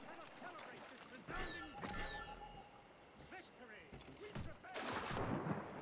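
Cannon fire batters a ship in Assassin's Creed Rogue, with deep booming blasts and crashes scattered among game noise and a burst of louder impacts near the end. Heard faintly, while a voice talks over it.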